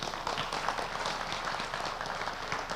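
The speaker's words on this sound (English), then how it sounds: "A round of applause to Patrick." An audience at a talk on African submarine, cloud and terrestrial networks claps steadily, a soft, even patter of many hands from start to finish.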